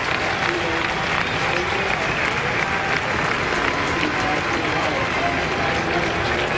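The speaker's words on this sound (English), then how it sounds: "the fans are giving him a round of applause, and rightfully so" Baseball fans at a Diamondbacks vs Phillies game give a player a sustained round of applause, a dense crowd roar that holds steady while commentators talk over it.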